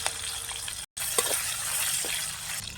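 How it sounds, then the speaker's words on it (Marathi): Green chillies frying in a little oil with curry leaves in a home kitchen pan, a steady close sizzle running throughout with brief stirring scrapes and a short gap near the start. "कमी तेलात आपला छान भाजी बनवायची कढीपत्ता टाकून घेऊया आपण आता मिरची तळून घेऊया"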